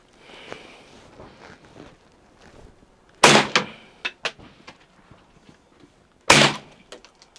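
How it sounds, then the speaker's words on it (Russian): Two sharp, loud gunshots from a 1951 SKS Simonov self-loading carbine ring out seconds apart, each followed by short echoing cracks, with quiet murmuring voices in between. "То есть вот классическая стрельба у нас."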